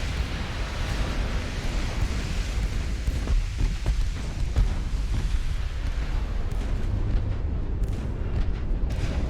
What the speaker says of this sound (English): There's an ammo detonation.